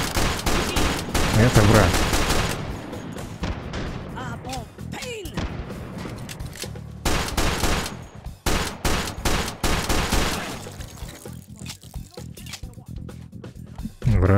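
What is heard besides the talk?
gunfire in the video game H3VR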